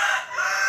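Free-range hens in a farmyard coop with hanging nests, giving a short, loud, close crowing or squawking call that fills the whole moment.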